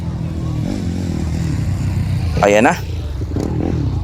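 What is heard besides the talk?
racing motorcycle engine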